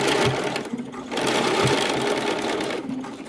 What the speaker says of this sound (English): Stitch this side down, doing the same exact thing.